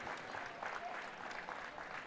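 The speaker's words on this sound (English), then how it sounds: "And the Steinhauers applauding their daughter and sister" Spectators applaud at a women's college basketball championship game, a brief stretch of moderate, steady clapping from the stands with a faint crowd murmur.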